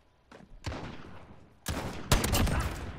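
Gunfire from enemies in a shooter video game, a few sharp shots, then a louder dense burst of fire that stays close and sustained toward the end.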